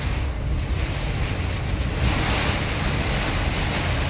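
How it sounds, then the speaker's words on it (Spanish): Strong storm wind roars on a highway during a tornado-like storm in La Porte, Texas, a loud continuous rushing gust with heavy microphone buffeting, no voices. "Hay mucho viento, señores, parece que hay tornado."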